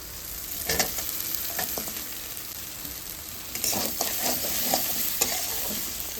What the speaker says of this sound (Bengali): মশলাটা কষানো হয়ে গেছে এবার আমি মাছটা দিয়ে দেবো